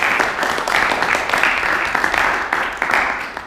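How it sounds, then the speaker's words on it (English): An audience at a student Toastmasters meeting gives a full round of applause, dense clapping swelling and holding steady for several seconds before tapering slightly. "please let's give her a round of applause"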